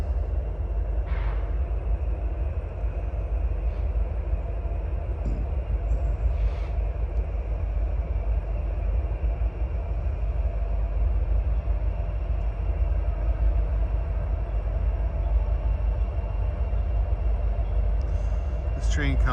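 A loaded coal train out of Wyoming's Powder River Basin rolls past on its way up a hill toward a power plant, a steady, loud, continuous low rumble and rolling clatter that carries on unbroken throughout.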